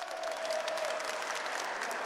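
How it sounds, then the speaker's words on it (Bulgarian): Distant, fairly quiet audience applause in an arena at a boxing final, a continuous dense patter of many hands with no voice over it. "И аплодисменти заслужени за двете."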